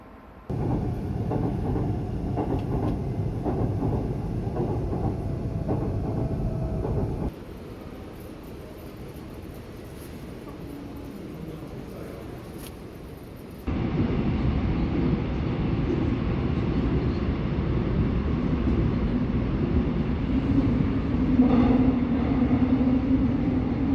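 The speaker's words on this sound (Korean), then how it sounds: "차 지나간다, 기차." A passing train produces a broad, steady rumble that carries on for the whole span, drops in level partway through, then swells louder again with a brief tonal squeal near the end, and no one talks over it.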